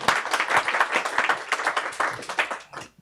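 Participants at a binational dialogue session clap for a speaker, loud distinct hand claps from a moderate-sized group that pulse unevenly and then die away at the end.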